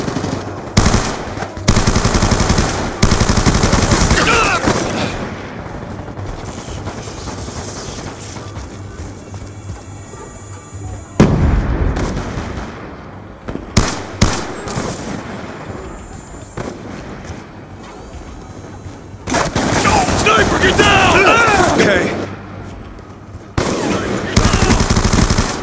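Black Ops 2 multiplayer gunfire crackles in rapid automatic bursts separated by short pauses, loud and close, with game voice callouts and brief talk between the volleys.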